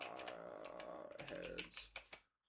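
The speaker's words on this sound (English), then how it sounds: "We'll just type it in." Quick keystrokes on a computer keyboard come in a close, irregular burst of light clicks that taper off at the end, over a faint background hum.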